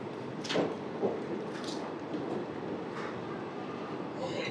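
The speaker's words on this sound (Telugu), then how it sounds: "ఎలిమెంటల్ నుంచి మన ట్రైన్ అయితే స్టార్ట్ అయిపోయింది" Simhadri Express train pulling out of Elamanchili station, a steady low rumble of rolling wagons with a few brief metallic clanks and squeals over continuous broadband noise, close and moderately loud, no talk.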